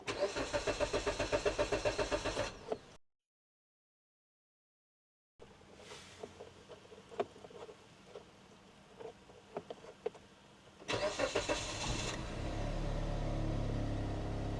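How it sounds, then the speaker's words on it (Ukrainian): A Hyundai i30 engine cranks and catches after a short silence, settling into a steady idle, with the starter whirring and a few clicks between the attempts. "Роблю ось таку двіжуху, вставляю і заводимо."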